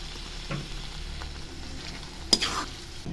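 Chicken gravy with potatoes simmers in a pan with a soft sizzle, marked by a few spoon scrapes and one sharper clatter partway through, and no voices.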